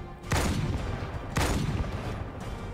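Sniper rifle fire in the Halo 2 video game: two loud, booming shots about a second apart, each trailing off into a rolling echo, with no talk.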